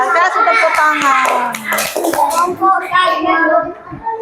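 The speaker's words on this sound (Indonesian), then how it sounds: "Kasih tepuk tangan." Children in a classroom clap their hands in scattered bursts of applause, mixed with kids' voices and an adult talking.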